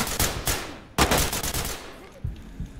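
Bursts of rapid gunfire in the tactical shooter Ready or Not crack out in sharp repeated volleys, loud and close, then thin to a few scattered shots.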